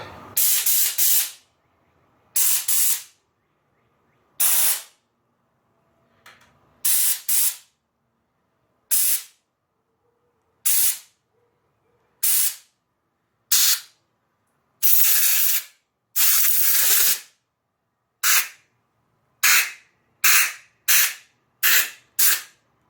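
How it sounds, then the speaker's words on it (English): Compressed air blasts out of the cylinders of a Ruger Old Army .45 revolver in about eighteen short, loud, hissing bursts separated by silence, some quick doubles and some longer sprays. "Got some compressed air here I can use to blow the cylinders out."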